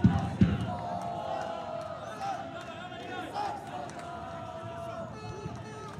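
A small crowd murmurs and calls out at a football match between Hapoel Afula and Bnei Yehuda Tel Aviv, a faint, steady stadium hubbub with occasional louder shouts under a commentator's voice.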